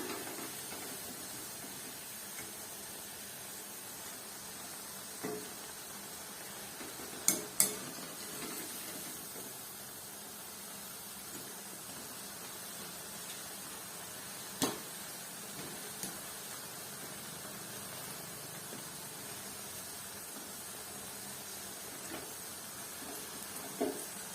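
Cabbage pakoras fry in oil with a faint, continuous sizzle. Now and then a utensil clinks against the pan as the fritters are turned, and there is no talking.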